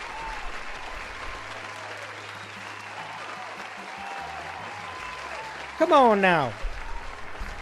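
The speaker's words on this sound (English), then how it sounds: "Big round of applause." An audience applauds, a steady wash of clapping under a voice, followed by a brief sweeping electronic chirp near the end.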